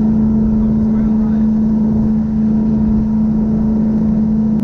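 Toyota Hilux with automatic transmission and manual shift control driving in third gear, a steady loud engine drone with a constant hum, close in the cabin, while a person talks over it.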